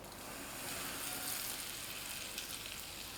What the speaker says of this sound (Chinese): 小碗中加入刚刚离火的花椒油。